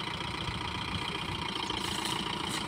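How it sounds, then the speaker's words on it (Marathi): Pickup truck engine running at a steady idle-like drone while the truck rolls over beans to thresh them outdoors, a constant rough rumble with no pauses. "पिकअपनं सगळ्या घेवडा बडवायच्या पेक्षा असं पिकअप फिरवतोय"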